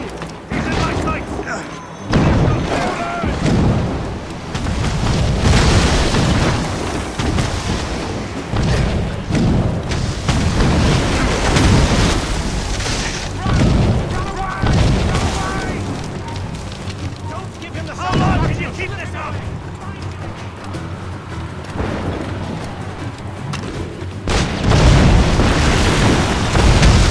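Ship cannons in Assassin's Creed Rogue fire as a series of loud, heavy booms spaced a few seconds apart, rumbling over ocean and battle noise, with voices shouting in between.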